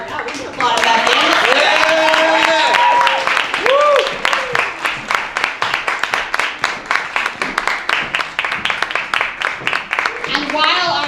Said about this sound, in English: we can applaud back in